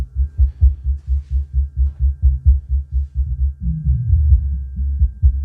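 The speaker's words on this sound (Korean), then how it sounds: "이 음악에는 베이스음만 나옵니다." Deep, pulsing bass notes from a 15-inch subwoofer thump in a steady rhythm, low and booming with little else above them, shifting to a denser rumble near the end.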